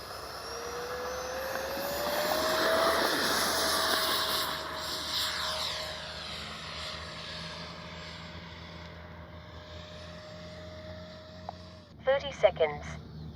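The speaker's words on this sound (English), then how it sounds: "This is one of my warm-up jets" A Freewing F-35 70mm electric RC jet sweeps past on a warm-up flight, its ducted-fan whine swelling loud then sliding down in pitch and fading into the distance, with a voice speaking briefly near the end.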